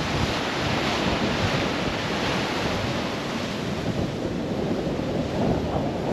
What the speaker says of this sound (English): It's a bit windy, but it is unreal. That water is so nice and clear.